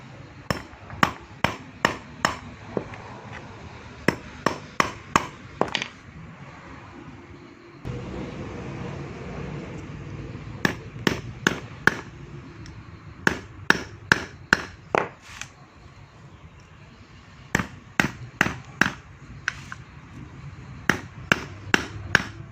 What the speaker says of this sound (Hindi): छोटा सा स्टील के केल के साथ इसको सुराख करेंगे